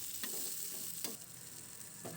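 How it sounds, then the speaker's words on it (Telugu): Cloves, cinnamon, garlic and an inch of ginger fry in a pan with a steady soft sizzle, broken by about three brief scraping stirs. "అల్లము వేసుకుని ఇవి కాస్త వేయించుకోవాలి"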